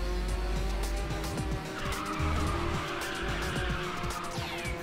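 A race car drifting in the video game Ridge Racer 6, its tires squealing in long, repeated skids over a steady, loud engine roar, with no talk.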